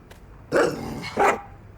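In the video game Master Detective Archives: Rain Code, a dog gives two short, loud barks about half a second apart, close and clear over quiet background, with no talk.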